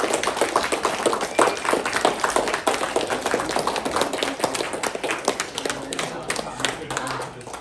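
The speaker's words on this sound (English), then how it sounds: "Can we give all of you a round of applause?" Guests clapping at a Christmas party at Camelot Castle, a busy crackle of hands that stays strong throughout and thins slightly toward the end, mixed with talk and cheers.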